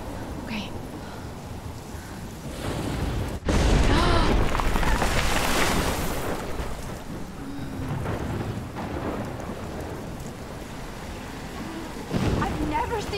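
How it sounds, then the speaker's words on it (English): A heavy thunderstorm rumbles in the video game Life is Strange, set in Oregon, with steady rain and loud thunder booms that swell and fade over the clip. "I've never seen a storm like this in Oregon."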